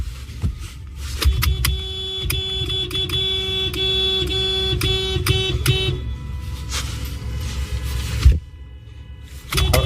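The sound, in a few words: car horns honking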